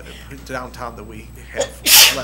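A single sharp, loud sneeze bursts out close by in a city council meeting room. It comes right after a person speaks briefly.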